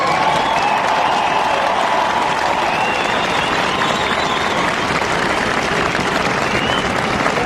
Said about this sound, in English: Ladies and gentlemen, give a cheer to Jason White and his side.